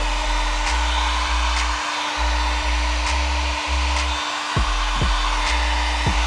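A heat gun blows steadily while warming vinyl wrap on a car, a loud, even rush of air that holds throughout, with a constant low hum underneath and a few faint clicks and thumps.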